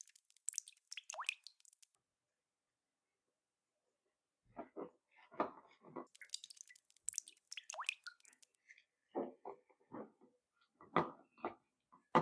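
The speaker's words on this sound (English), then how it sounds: "Now squeeze out the excess water, and then I'll put it in the jar." Grated or sliced cucumber wrung by hand to press out water for quick pickles: wet squishes and drips in several short bursts with pauses, close and quiet.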